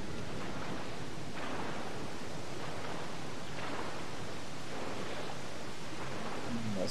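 Water in the God of War PlayStation 2 game, heard as a steady, broad rushing wash like surf or flowing water that fills the whole stretch at moderate level, with no one talking over it.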